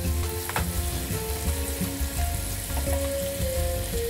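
Chopped onions frying in oil in a pan for a Bengali Bombay duck dish, a steady close sizzle with stirring clatter and scraping throughout, and no voices.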